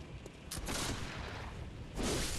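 Gunfire in the video game Brennan's Very Sad World of Blood, a dense burst of loud shots at about half a second, then another loud burst near the end.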